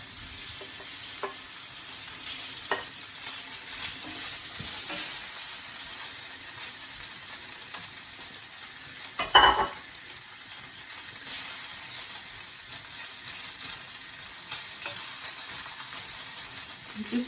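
Tofu sizzles steadily in hot oil in a pan during a Korean stir fry, a continuous close frying hiss with occasional soft stirring scrapes and one brief louder clatter midway.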